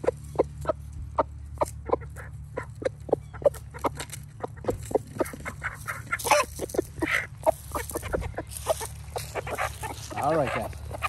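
An Aseel hen, a pure Rajah murgh bird, clucks in a quick run of short, sharp calls close by, with some scattered louder squawks and handling noise partway through.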